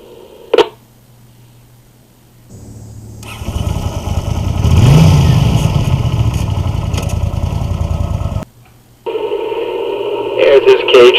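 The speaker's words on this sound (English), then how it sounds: "testing with the motorcycle running and at idle, not in motion at this time" A stationary motorcycle idles with a steady low engine rumble under a man's radio-style speech, joined by brief beeps and radio tones at the start and end.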